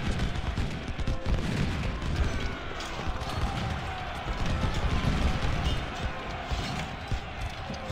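Infantry rifle volleys crackle densely and continuously through Ultimate General: Civil War, a steady rattle of massed musket fire with scattered louder reports and a low battlefield rumble beneath.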